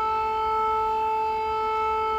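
A civil defense air raid siren wails steadily and loudly through a press conference, a sustained tonal drone with no talk over it.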